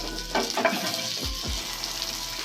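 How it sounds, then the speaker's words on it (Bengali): A tomato and spice mix fries in a pan, sizzling steadily and close throughout, with a couple of soft low thumps from stirring near the middle. "মশলাটা পুরো ভাজা হয়ে গেছে, দেখুন টমেটোগুলোও গলে গেছে"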